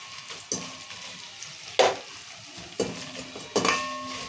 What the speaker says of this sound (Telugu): అల్లం వెల్లిగడ్డ కూడా పచ్చివాసన పోయే దగ్గర మంచిగా వేయించుకోవాలి నూనెలా